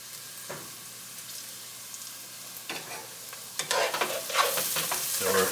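Diced green and red peppers sizzle steadily in a hot pan while being stirred, the frying hiss building louder toward the end, with clinks of the utensil against the pan.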